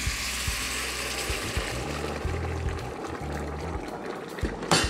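Water is poured into a pot of browned meat on a kitchen stove, giving a continuous splashing, bubbling rush with small clinks. It is fairly close and no one talks over it.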